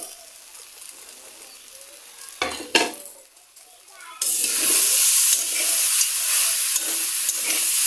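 Ground dried red chili mixture hitting hot oil in a pan, sizzling and frying steadily after a few brief stirring knocks, the sizzle growing loud and continuous.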